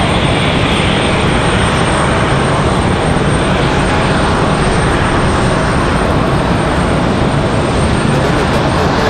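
American Airlines passenger jet taxiing at Raleigh-Durham International Airport: a loud, unbroken roar of jet engines with a broad rushing hiss that stays constant and close, with faint talk beneath.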